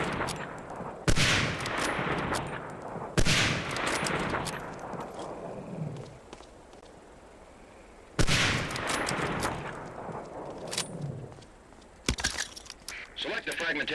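Springfield 03 sniper rifle shots ring out on a training range in Medal of Honor: Allied Assault. There are four loud, separate cracks with long decaying tails, spaced several seconds apart, while a narrator talks throughout.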